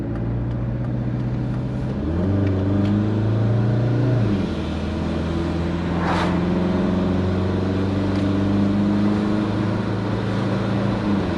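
Turbocharged Subaru car in third gear with a big turbo: loud, steady engine drone heard from inside, pitch climbing, dipping at a gear change around two seconds, then rising again under continuous load.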